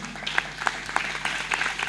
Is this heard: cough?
no